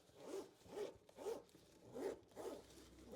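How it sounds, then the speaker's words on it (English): A woven YKK zipper on a cable organizer bag is pulled back and forth, giving five or six short, close rasping zips in an even rhythm, quiet and isolated. "it's got the woven in tough zipper, the YKK. That's an excellent zipper."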